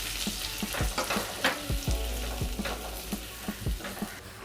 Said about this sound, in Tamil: பட்டர் உருகுனதும் 1 டீஸ்பூன் பொடியாக நறுக்கின பூண்டு சேர்த்துக்கோங்க.